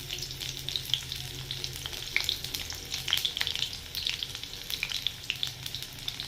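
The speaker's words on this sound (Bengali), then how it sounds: "পেঁয়াজ কুচি দিয়ে দিলাম।" Chopped onion frying in oil with bay leaf and cinnamon for a mutton curry, a close, continuous sizzle broken by scraping stirs and crackling pops, with no speech.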